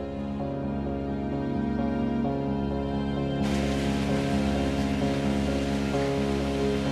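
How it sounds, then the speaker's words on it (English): Shallow stream water trickles through a cave, a continuous dense wash and patter with a steady level throughout and a constant underlying hum, no voices. "today the water is limited to a shallow trickle"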